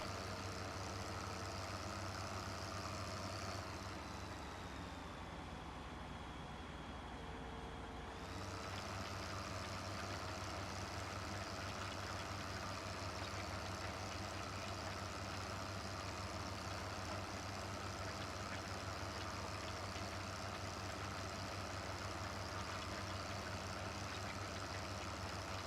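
Tractor engine in Farming Simulator 15 idles with a steady low drone, joined by a cultivator on a three-point hitch, constant and even throughout with a brief tonal shift early on.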